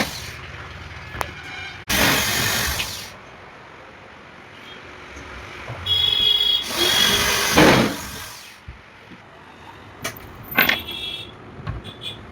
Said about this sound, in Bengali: প্লাইবোর্ডে এবার নিচে থেকে ফুটো করা হচ্ছে, হাইড্রোলিকের ফুটো সমান সমান করে বোর্ডে এখন ফুটো করা হচ্ছে।